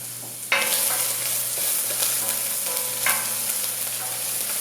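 Ginger and garlic frying in a hot pan, a steady bright sizzle with a sharp jump as something drops in, then a second surge a few seconds later, close and alone without talk.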